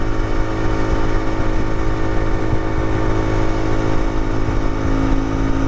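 Loud, steady engine drone of a CFMoto Ibex 450 motorcycle running on a 15-tooth sprocket under throttle while climbing a highway grade, continuous rumble with wind rush and no pauses.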